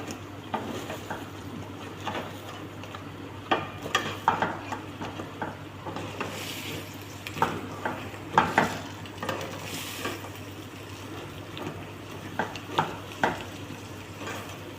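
A crab dish is stirred in a pan with repeated scraping and clinking strokes of a utensil against the metal. The strokes come in irregular bursts over a faint steady sizzle and a low background hum.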